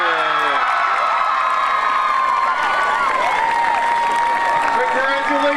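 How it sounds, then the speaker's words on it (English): An audience at a 2012 homecoming ceremony fills the air with continuous applause, cheering and high whistles, loud and close. "Let's give him a big round of applause."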